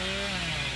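Billy's chainsaw revving in a video game, with a silent chainsaw setup: a steady, loud, buzzing motor drone with a tonal whine that holds for under a second.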